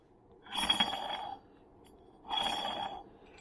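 Two bursts of scraping, rubbing friction with a faint metallic ring from a spinning Yamaha YXZ clutch part, each lasting about a second, separated by a short quiet gap, close and moderately loud.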